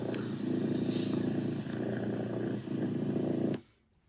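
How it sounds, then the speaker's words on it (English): A house cat purring loudly and close, a continuous rumbling drone with rhythmic breathing cycles that stops abruptly near the end. "Cat purring. I need to hear the cat purring loudly sound,"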